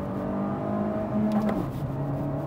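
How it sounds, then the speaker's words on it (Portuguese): Fiat Argo Trekking 1.3 FireFly 2020 on the road, shifting into second gear: a steady, moderate engine drone with a brief dip and change in pitch midway as the gear engages, heard from inside the cabin. "motor, ó, vou colocar a segunda"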